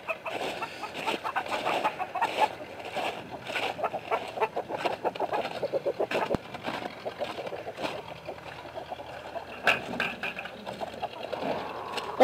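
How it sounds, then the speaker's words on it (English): Hens in a backyard chicken coop cluck and chatter in short irregular bursts, a busy overlapping flock sound at moderate distance, fairly quiet, with a few sharper calls and light rustling throughout. "we're coming up to the chicken coop here"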